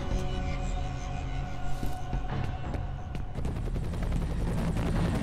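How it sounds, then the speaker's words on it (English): Helicopter in the shooter game F.E.A.R., a heavy steady rotor drone filling the scene alongside bursts of distant gunfire, with the roar thickening and growing louder toward the end. "Here, a helicopter."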